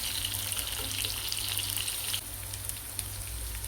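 Sliced bitter gourd frying in oil on a slow flame for an Andhra-style bitter gourd fry, a dense continuous crackling sizzle that eases slightly partway through, close up with no voices.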